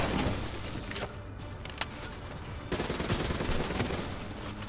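Gunfire rattles in Call of Duty Black Ops 3 campaign combat, with dense bursts of shots and sharp cracks layered over a constant battle din that stays loud and close throughout.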